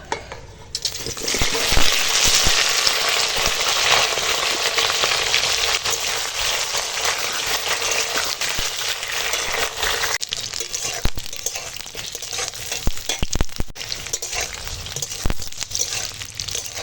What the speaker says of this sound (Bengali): তেল গরম হয়ে গেছে চলো পটলগুলোকে এখন ভেজে নেবো